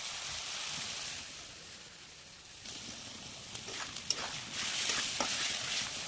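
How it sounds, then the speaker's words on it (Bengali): A ground paste of ginger, green chili and cumin fries and is stirred with potato and tomato in a pan. The result is a continuous loud sizzle with scraping stir strokes, close up and steady. "মশলাটা খুব ভালো করে কষিয়ে নিতে হবে।"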